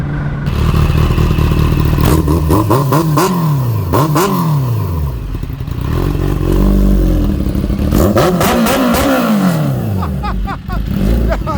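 Loud, unbaffled exhaust of a tuned 352 hp Kawasaki Ninja H2 motorcycle, revved hard in several rising and falling bursts with a steady idle between, close and continuous.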